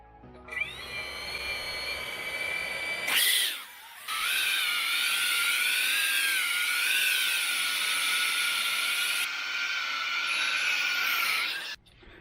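FPV racer long-range quad drone with aftermarket props, a loud, high whining buzz that spools up, cuts briefly, then holds a wavering sustained pitch close by before stopping abruptly.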